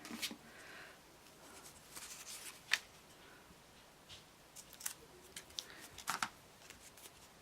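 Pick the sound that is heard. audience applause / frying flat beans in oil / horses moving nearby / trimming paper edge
trimming paper edge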